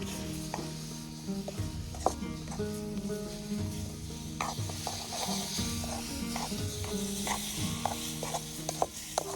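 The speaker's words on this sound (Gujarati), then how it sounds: "તો મિત્રો, આપણે તામ દૂધ એડ કરીએ." Milk sizzling as it is stirred into semolina roasting in a pan, a steady close hiss with scraping stirs and small clinks throughout.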